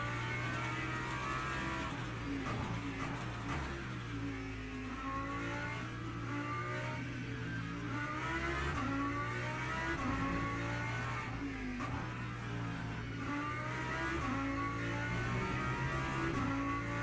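A V10 race car engine in the Le Mans Ultimate racing game, revving loud and continuous, rising and falling through gear changes for the whole stretch, with no talk over it.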